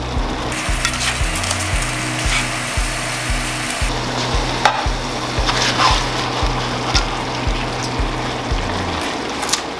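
Steady, loud sizzling and bubbling from a pot of seafood stew as fish goes in, with rhythmic low knocks of stirring running through and no talking.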